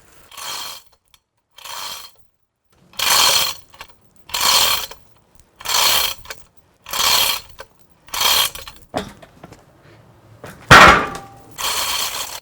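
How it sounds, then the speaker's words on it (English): Hoist winding up to lift a spalted silver maple log for slabbing, heard as a series of about nine evenly spaced ratcheting bursts, loud and close, with a sharp clank near the end. "I'm just gonna use my hoist."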